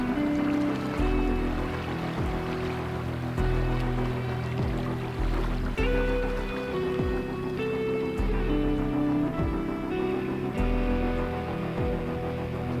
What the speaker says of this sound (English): just to show you how fast the water is going.